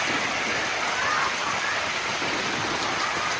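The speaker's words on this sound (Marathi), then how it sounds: "आज परत परत पुन्हा पाऊस सुरू झाला इथं." Steady rain falls outside, an even, hissing wash of drops on surfaces that continues without a break and without voices.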